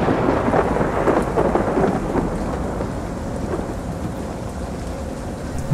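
Heavy rain pours down in a thunderstorm with low thunder rumbling, loudest early and then settling into a steady downpour.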